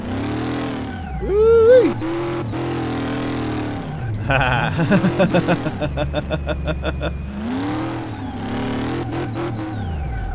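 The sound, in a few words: 1932 Ford Roadster engine revving in video game Car Mechanic Simulator 2018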